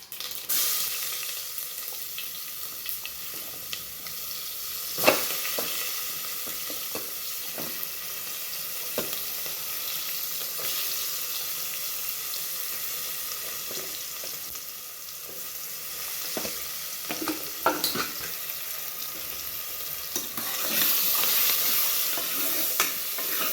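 Chopped onions fry in hot oil in a pan for vendakkai kaara kuzhambu, a steady close sizzle with occasional stirring scrapes and clinks, no talking.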